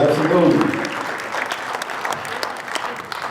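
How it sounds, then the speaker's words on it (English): An audience at a Martin Luther King Jr. birthday celebration applauds, a dense patter of many hands that starts strong with a voice over it and then continues as steady clapping. "Give yourself a round of applause, absolutely."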